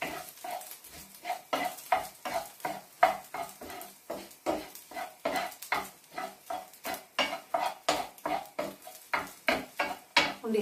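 A serving spoon scrapes and stirs rice around a frying pan for egg fried rice, a quick steady rhythm of metallic scrapes and clanks with a faint sizzle, close and alone.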